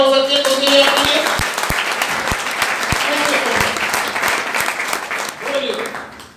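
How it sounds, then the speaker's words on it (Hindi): An audience at a business seminar breaks into loud, sustained applause with sharp individual claps standing out, while a voice talks over it. "एक बार जोरदार तालियां हो सकती है"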